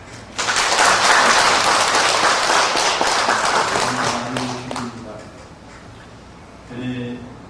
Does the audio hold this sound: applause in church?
yes